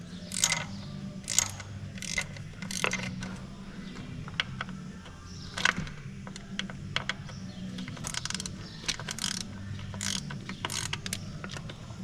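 A tiny socket on a small ratchet wrench clicks in quick repeated bursts while working on a Chevrolet Caprice engine during a water pump job. The crisp ratcheting sits close, over a low background rumble.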